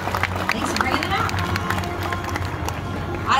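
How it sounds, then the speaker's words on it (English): Audience applause at an animal actors show at Universal Studios Hollywood, a brief wash of clapping and crowd murmur with some voices talking over it. "Let's give a nice round of applause for Iris and Olympus."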